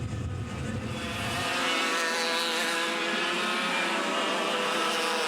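Yamaha-engined racing karts in a CIK Yamaha Light final, their high two-stroke engines droning and buzzing together as a dense, loud, continuous wail, with a deeper low rumble dropping away early as a pack passes by.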